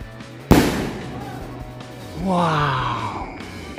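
A lit firecracker bursts with one sharp, loud bang, followed by fizzing and a rising whistling hiss, set off during the Ramadan fasting month.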